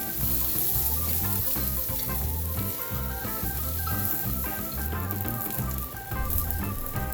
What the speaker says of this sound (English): These green beans don't take too long to cook. You just want a nice char on them along with the garlic.